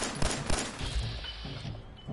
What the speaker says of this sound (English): Who else is out there shooting?